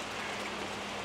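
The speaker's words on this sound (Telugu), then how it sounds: "బీభత్సమైన వర్షం కొడుతుంది." Heavy rain falls in a steady dense hiss near the Langkawi mangroves in Malaysia, a short and fairly faint burst of continuous downpour with no voices.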